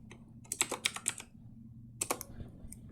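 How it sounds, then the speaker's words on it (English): Quick keystrokes tap on a computer keyboard in two short bursts, close and clear, separated by a pause over a faint low background hum. "So I'm going to type in here"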